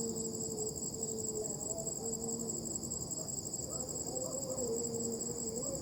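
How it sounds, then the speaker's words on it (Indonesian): Crickets and other insects chirp in a steady, high-pitched drone in a cemetery, with faint intermittent calls beneath, like a quiet night outdoors. "Banyak suara serangga."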